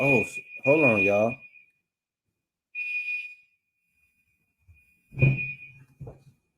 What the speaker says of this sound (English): I think that's a fire alarm.